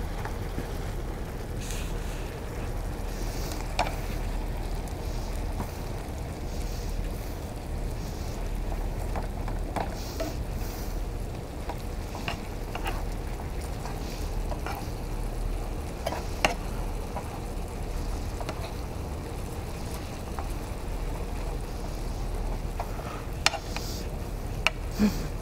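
Meat sizzling in a frying pan while a utensil repeatedly chops and scrapes it apart, a low steady hiss broken by intermittent knocks and scrapes, nearby and without talking.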